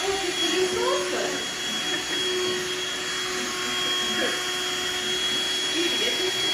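A vacuum cleaner runs steadily throughout, a loud continuous whine and roar with a constant tone and no breaks.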